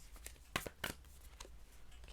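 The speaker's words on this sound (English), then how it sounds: "I'll also shuffle your oracle cards right now" Oracle cards being shuffled by hand during a card reading, a run of soft papery riffles and slaps, close and fairly quiet.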